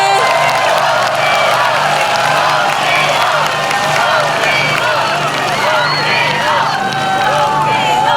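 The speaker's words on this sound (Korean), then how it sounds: "큰 박수로 맞이해주세요." A large outdoor crowd at a political rally in Daejeon, Korea, cheers, whoops and applauds steadily and loudly for a former baseball pitcher taking the stage, a continuous dense roar of voices filling the space.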